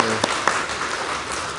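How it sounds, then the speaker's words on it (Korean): A church congregation applauds during a Sunday worship service in Busan. The clapping is brief and steady after a short spoken moment at the start. "우리 하나님께 영광의 박수 올려드리겠습니다"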